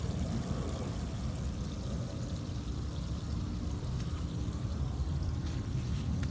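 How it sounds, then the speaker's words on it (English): Water from a garden hose pouring onto a SnugPak Cave tent outdoors, a steady broad rushing spray with dense patter, continuous and moderately loud without any talk. "You can see the water pouring out of the hose."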